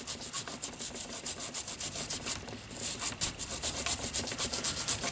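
Scrubbing and rubbing at the gunk-caked feed ramp of an M1A rifle during cleaning, a steady run of close, rhythmic scraping strokes with bright, hissy texture and no talking.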